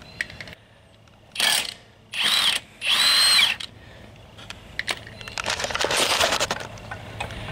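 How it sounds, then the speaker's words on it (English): An impact wrench fires in three loud, close bursts with pauses between, then rattles and whirs more unevenly as a Jeep Wrangler's rear wheel comes loose. "we are going to use some power tools just to make it quicker"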